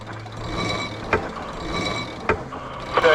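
A sailboat tacks off Whitehaven Beach in Australia, with mechanical ratcheting clicks from the rigging and winches sounding in a few sharp bursts over a steady background of wind and water.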